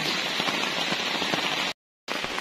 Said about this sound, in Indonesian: hujannya beneran deres banget, deres banget, terus ditambah lagi sama angin